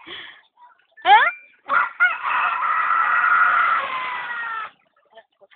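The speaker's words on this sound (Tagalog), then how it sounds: "Chicken." A chicken crows in a drawn-out call after a few short clucks and squawks, close by and loud, followed by faint scattered clucks.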